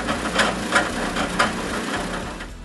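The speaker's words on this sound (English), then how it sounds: "I mark all the holes and I drill them." A power drill boring holes into a wooden TV wall support in a woodworking shop, giving a steady, close motor whine with a few rhythmic surges in loudness and no talking.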